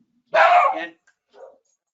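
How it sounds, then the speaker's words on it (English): A dog gives one sharp, loud bark close by, followed a moment later by a softer, shorter yip in an otherwise quiet room. "and that's my other dog"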